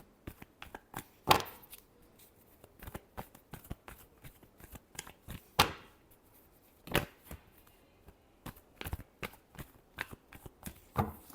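Tarot cards being shuffled by hand, a series of crisp riffles and sharp taps at irregular intervals, close and fairly quiet, with no talking.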